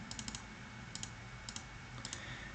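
A few clusters of light plastic key clicks on a calculator, tapped in quick bursts of two to four presses, close and faint over a steady background hiss.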